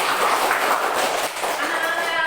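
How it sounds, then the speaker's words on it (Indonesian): Classroom applause for a student, a short burst of children clapping together, moderately loud and fairly even, with no one speaking over it. "Kasih tepuk tangan dulu untuk Aini"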